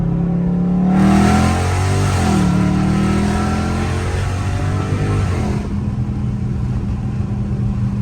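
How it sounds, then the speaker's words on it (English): A loud Dodge Scat Pack pulling hard in second gear, its engine rising in pitch through a strong, close revving sweep and then settling into a steadier drone. "Oh, we get y'all boys a little second gear pull."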